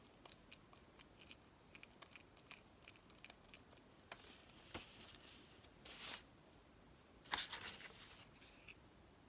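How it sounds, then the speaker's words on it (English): Scissors snip through a thin reinforcing plastic strip during an eyeglasses repair, a string of crisp, close cuts with short gaps between them and a couple of louder snaps near the end, quiet and without talk. "So let me cut my plastic"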